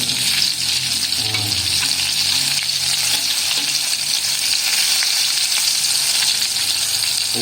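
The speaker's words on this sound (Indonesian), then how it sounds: "kita goreng sampai keemasan ya teman-teman." Steady, loud sizzling and crackling of battered shrimp tempura deep frying in hot oil, continuous throughout with no voices.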